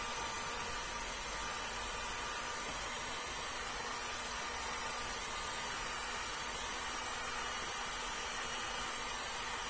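Heat gun set to 200 degrees warming vinyl wrap film around a Mercedes W201 190E headlight, a steady airy blowing hiss held at an even level throughout, close by with no voices.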